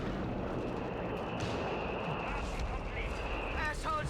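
Aircraft strafing run in Company of Heroes 3, a dense roar of rapid cannon and gunfire with rumbling impacts sustained throughout, heard under a voice.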